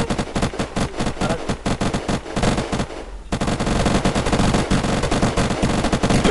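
Rapid automatic gunfire in the game Unturned rattles loudly in fast bursts, breaks off briefly for a second, then resumes in a sustained, dense volley.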